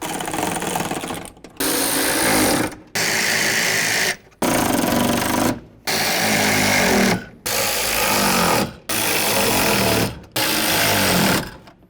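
A power tool snugs the window regulator mounting nuts on a 2005-14 Ford Mustang door in eight loud, close bursts of about a second each, separated by brief pauses, with no talking.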